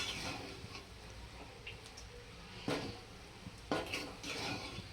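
Sabudana khichdi with crushed peanut powder being stirred in a pan, a faint, light scraping and a couple of sharp metallic clinks of the spoon against the pan, close by and quiet.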